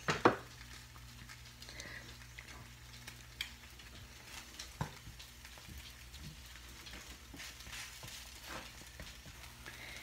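Salmon patties fry in butter in a pan, giving a steady soft crackling sizzle with a few sharper pops near the start, close and fairly quiet.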